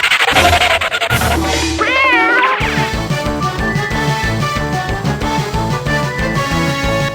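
Cat meowing with a rising, wavering cry near the start, followed by loud rhythmic music with a heavy beat.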